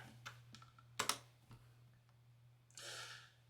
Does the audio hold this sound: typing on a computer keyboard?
yes